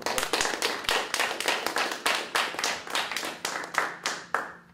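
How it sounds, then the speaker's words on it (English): An audience bursts into steady clapping for a woman invited up on stage, dense, even applause carrying on for a few seconds before thinning toward the end. "Everybody give her a round of applause, please."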